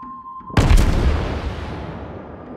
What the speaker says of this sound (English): I got detonated